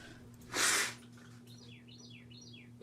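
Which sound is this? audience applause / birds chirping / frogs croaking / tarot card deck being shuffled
birds chirping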